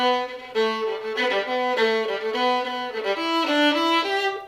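A fiddle plays a fast run of bowed notes from the bluegrass tune Cripple Creek, close and clear, with quick, evenly paced strokes and no voices.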